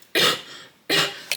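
Two dry, forceful coughs from a woman, close to the microphone, separated by a short pause, with a small catch of breath at the end.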